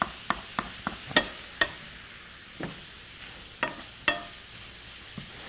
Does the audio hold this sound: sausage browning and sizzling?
yes